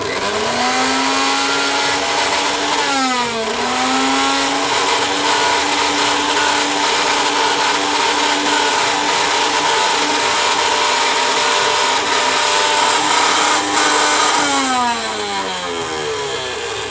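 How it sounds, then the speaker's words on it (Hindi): A repaired kitchen mixer grinder with a worn motor bush runs loud and steady with a whining, slightly rough motor tone, briefly dipping and revving back up early on, then spinning down near the end. "तो दोस्तों ये मिक्सी अब ठीक हो गई है। ये थोड़ी सी आवाज़ कर रही है"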